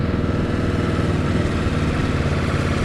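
A Ducati Multistrada V2S motorcycle engine runs steadily up close, a loud, continuous mechanical drone with a clattery pulse and no speech.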